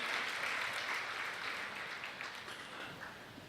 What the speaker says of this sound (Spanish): así recibimos con un aplauso a Dardo Chiesa